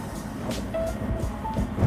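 The fastest passenger train in Uzbekistan rides along with a steady low interior rumble and faint rhythmic clatter heard from inside a carriage, plus a few brief thin tonal whines.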